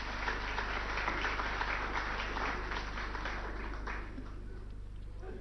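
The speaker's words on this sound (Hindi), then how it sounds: "उनको तालियों से स्वागत कीजिए।" A studio audience at a televised political forum applauds to welcome Arvind Kejriwal, Delhi chief minister and Aam Aadmi Party leader, with dense steady clapping that is loud and continuous, then eases slightly toward the end.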